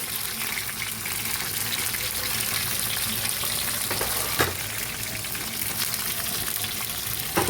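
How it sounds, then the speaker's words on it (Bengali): Malabar spinach and shrimp fritters sizzle steadily in hot frying oil, a dense, continuous crackle close by with a brief clatter of utensils midway and no talking. "ওরে বাবা রে কী ফোটে এটা"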